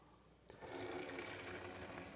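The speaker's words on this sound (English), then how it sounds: "So I'm going to go ahead and strain this." Homemade chicken stock made from a carcass is poured through a strainer: after a brief quiet moment, a sudden steady rush of splashing liquid starts and keeps flowing, close and continuous.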